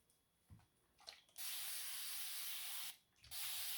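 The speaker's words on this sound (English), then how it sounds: "my same Vila spray bottle, and I get it wet" Spray bottle misting water onto a wig, two sustained hissing sprays, the first longer, close and fairly soft, alone.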